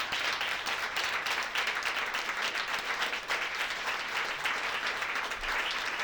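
Audience applause at a live talk event, a steady, dense wash of many hands clapping, fairly close and sustained for the full stretch with no voices over it.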